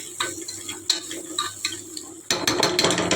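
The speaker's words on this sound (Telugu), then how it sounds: "దీన్ని బాగా ఫ్రై చేసుకోవాలి." Chili powder and salt being stirred and fried in a pan while preparing paneer biryani, with close scraping strokes giving way to a steady, brighter sizzle in the final second.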